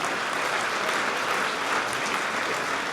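Dense, steady applause from a large charity gala audience honoring awardees, continuous and even throughout with no voices standing out.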